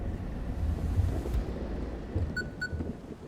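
In the video game Static Dread, a stormy soundscape of low rumbling wind and thunder-like roar rolls steadily, punctuated by a couple of faint high beeps, with no voices.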